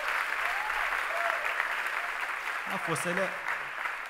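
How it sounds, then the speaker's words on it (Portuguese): Steady applause from a crowd runs throughout, with a voice speaking briefly near the end. "Um salve de palmas para ele."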